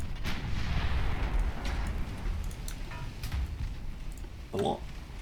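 Naval artillery fires in Ultimate Admiral Dreadnoughts, a warship battle game: deep booming salvos rumble through a dense bed of distant gunfire, with a sharper report near the end and a voice speaking over it.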